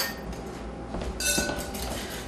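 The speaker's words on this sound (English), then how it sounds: "And you whisk it for a couple minutes," Milk being whisked into instant pudding mix in a bowl, a brisk clinking and scraping of a whisk against the bowl, close and steady for a couple of seconds with no talk.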